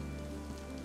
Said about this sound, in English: It's raining again, which is not good